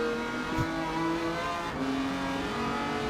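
A race car engine in Gran Turismo 7 drones loud and continuous, its pitch climbing and dropping through gear changes with a brief sharp shift near the start and another partway through.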